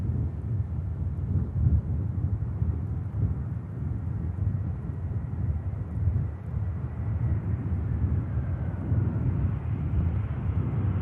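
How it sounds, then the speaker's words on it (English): An EasyJet airliner comes in to land in blustery wind, a low distant rumbling roar that swells and fades unevenly with gusts buffeting the microphone. "EasyJet landing in slightly blustery conditions"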